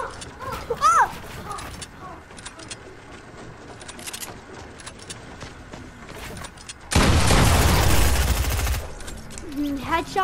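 Rapid submachine gun fire in a video game shooter, a dense loud burst of automatic shots lasting about two seconds, with a player's voice talking and exclaiming around it.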